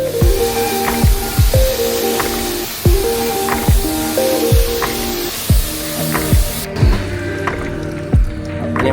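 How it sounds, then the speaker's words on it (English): Short bursts of a spray product misted onto a 2023 Audi RS6 during a post-winter wash, roughly a dozen quick, close hisses in a steady rhythm with brief pauses between them. "So spray it on there."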